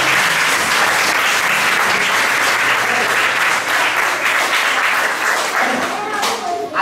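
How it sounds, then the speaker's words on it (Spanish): Enthusiastic audience applause at a flamenco show at a peña flamenca, dense clapping and crowd noise sustained throughout before tapering near the end. "Un aplauso para Cerilla"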